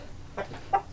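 Chickens kept in a shared pen with Muscovy ducks give two or three short, close clucks in quick succession over a quiet yard background, with no voices.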